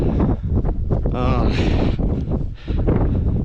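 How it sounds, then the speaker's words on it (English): Strong wind roars across a rocky, cliffy scramble on Granite Peak, Montana, a loud continuous rushing buffet against the microphone with a voice partly audible underneath. "the wind has just been brutal"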